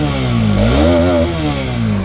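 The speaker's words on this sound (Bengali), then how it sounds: "সো কারিশমা ZMR যদি এক্সস্ট সাউন্ড আপনাদেরকে না শোনায় তাহলে কি হবে?" Exhaust of a Karizma 210cc motorcycle, close and loud: the engine idles, revs up, holds briefly, then settles back to a throbbing idle.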